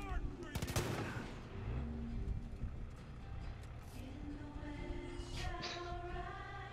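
Rapid bursts of gunfire and booming blasts crackle through a busy, dense mix, with intermittent tones and faint voices underneath, from explosions behind a truck in the video game Far Cry 5.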